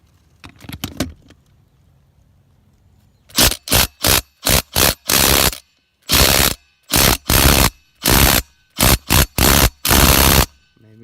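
A brushed Ridgid cordless impact driver hammers on a car lug nut in a series of loud, sharp bursts of rapid ratcheting impacts, each lasting under a second, after a few clanks of handling.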